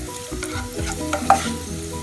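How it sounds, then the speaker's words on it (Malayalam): Chopped banana frying in the same hot oil, a brief close sizzle with a couple of scraping stirs and one sharp clink near the end, no voices. "പഴം നമുക്ക് നന്നായി വരട്ടിയെടുക്കാം."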